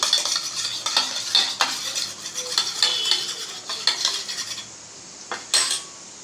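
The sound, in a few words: stirring tomato ketchup and chilli sauces together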